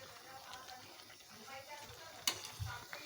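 Stuffed eggplant mixture stirred by hand in a pan, a faint soft scraping and gentle sizzle with a few light clicks and taps against the vessel, quiet throughout.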